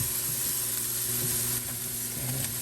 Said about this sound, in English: We are gonna go ahead and add in our garlic right now, and we're gonna let that cook for about 60 seconds or so